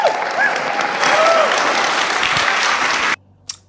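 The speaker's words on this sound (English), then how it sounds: "And she got applause." Audience applause at a debate event, a loud, dense burst of clapping that runs for about three seconds and then cuts off abruptly, leaving near silence with a brief faint sound afterward.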